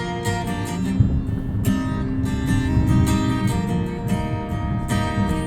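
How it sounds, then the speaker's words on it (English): Guitar music plays through the Harman Kardon sound system of a 2020 Subaru Ascent, a steady, full-bodied track with plucked note attacks and sustained tones filling the cabin without talk. "So I'm going to put that first guitar track back on"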